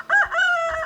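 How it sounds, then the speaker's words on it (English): Roosters on a homestead crowing, a single loud, close cock-a-doodle-doo call rising and holding for nearly a second with no talk. "We got 3 roosters in there waiting for their fate."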